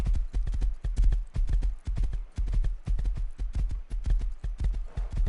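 Horse hooves clip-clop steadily and loudly in a rapid galloping rhythm while riding in the Rust survival video game, continuous for several seconds with no talking.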